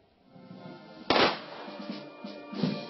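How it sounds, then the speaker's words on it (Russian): A single sharp gunshot from a military gun salute cracks out at a war memorial, followed by echoing rumble and a second fainter boom, heard from a distance outdoors. "Военный салют"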